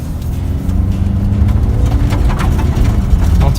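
A Mercedes-Benz X-Class 250d diesel pickup carrying 650 kg in the bed, its engine droning loud and steady under load as it pulls away, a continuous low rumble close by.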